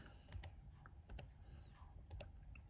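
Keys on a computer keyboard are tapped in short quick bursts, close and quiet, as a disk management command is entered.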